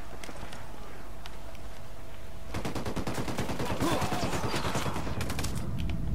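Gunfire in Ghost Recon Wildlands: after a few quiet seconds a sustained fusillade of rapid automatic shots breaks out, dense and loud, continuing to the end.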